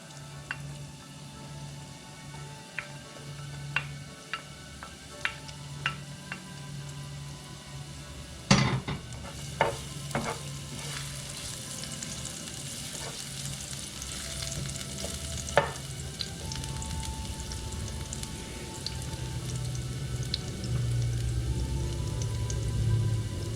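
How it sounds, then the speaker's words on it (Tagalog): Chopped garlic sizzles steadily in a tablespoon of hot coconut oil, a continuous frying hiss with occasional sharp clinks of a utensil against the pan, growing slightly louder toward the end. "I'm gonna heat up a tablespoon of coconut oil. I'm gonna add some chopped garlic."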